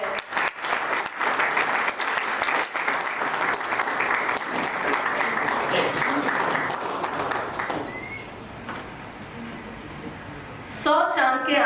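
An audience at a JCI Raipur Royal Capital award function and oath ceremony claps to welcome the oath officer, dense applause that swells and holds for several seconds before tapering off, with a voice speaking briefly at the end.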